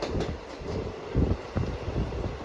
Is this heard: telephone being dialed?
no